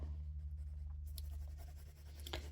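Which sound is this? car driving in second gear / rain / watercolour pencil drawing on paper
watercolour pencil drawing on paper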